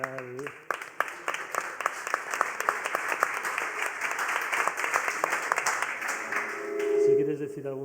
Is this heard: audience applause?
yes